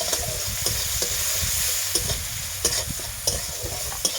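Chopped onions fry in hot oil with a pinch of salt, giving a steady close sizzle broken by sharp scraping clicks of a spoon stirring the pan, with no talking.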